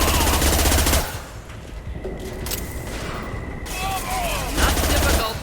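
Weapon fire in the Mass Effect video game, a dense rattling burst at the start and again near the end, with a quieter stretch of combat noise between, and a voice briefly over it.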